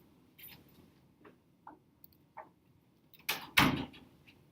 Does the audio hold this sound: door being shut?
yes